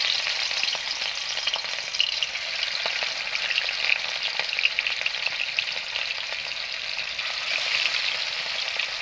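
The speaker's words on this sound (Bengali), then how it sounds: "তেলটা আমার গরম হয়ে গেছে এখন আমি দিন দেবো এখানে সাদা তেল আমি নিচ্ছি মাছকে আমি দিন দেবো" River fish frying in hot white oil in a wok, a steady, dense sizzle with faint crackles throughout, close and unbroken, with no voices.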